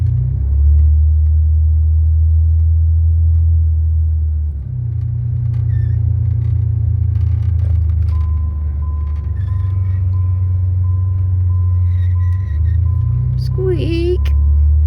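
Steady low engine rumble and road noise inside a 1990 Eagle Premier car while driving, continuous and moderately loud, with a faint whine and a brief squeak near the end.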